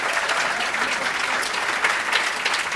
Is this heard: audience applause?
yes